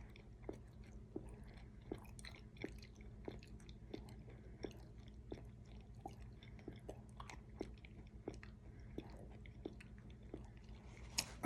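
Popcorn is chewed close up in a quiet room, with soft crunchy bites repeating at a steady rhythm roughly every second or two.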